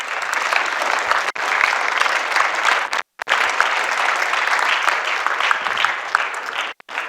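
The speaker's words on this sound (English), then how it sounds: "So if everybody could please give them a round of applause." A panel draws sustained, steady audience applause at an internship presentation event, dense and even for several seconds, broken by two brief near-silent gaps.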